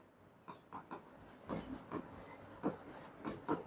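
Chalk or marker scratches across a board during a biology lesson on cells, a series of short rubbing strokes in uneven rhythm, close and fairly quiet with no talk.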